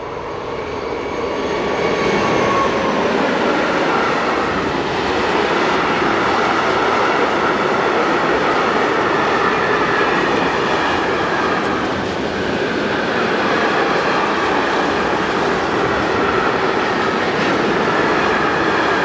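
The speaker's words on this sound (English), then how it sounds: "753-735 in the old livery and 753-708 in the company's new colour scheme power this northbound train of tank wagons bound for Kopistei" A northbound freight train of tank wagons hauled by two Czech diesel locomotives in the Elbe River valley: a loud, steady roar of engines with continuous wheel and wagon rumble rolling past close by throughout.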